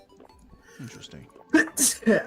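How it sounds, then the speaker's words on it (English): A person lets out a low-pitched sneeze in a few sharp bursts near the end, after a stretch of quiet talk. "I have like a very low-pitched sneeze"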